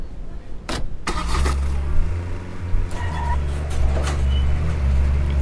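A car in a video game rumbles with a low, steady engine drone throughout, punctuated by a few short clicks and mechanical bursts near the start and middle, fairly close and prominent.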